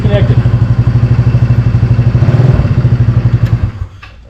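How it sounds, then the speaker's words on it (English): A GY6 scooter engine, kickstarted with the battery disconnected, runs at a close, steady putter before cutting out near the end. "I just started the bike, Kickstarter, and the battery is completely disconnected"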